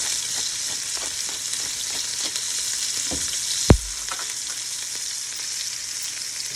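Thin steak sizzling in a saute pan while it is seasoned, a constant bright hiss close up, with a single soft knock partway through.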